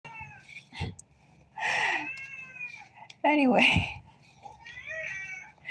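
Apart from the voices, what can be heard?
cat meowing in the background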